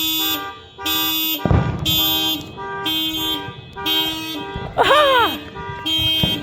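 Several car alarms blare across a neighborhood on New Year's night, repeating tonal chirps and a rising-falling siren wail, with a burst of fireworks and excited shouting mixed in.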